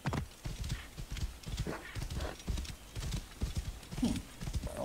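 A horse's hooves gallop in Assassin's Creed Origins with quick, rhythmic clip-clop beats. A whinny is heard near the end, and there is no talking.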